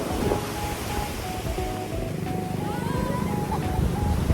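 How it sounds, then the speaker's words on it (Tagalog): Sea waves wash onto the beach at Liwliwa, Zambales as a steady, fairly loud surf hiss with wind buffeting the microphone and faint voices calling in the background. "Nakikita ko na yung dagat."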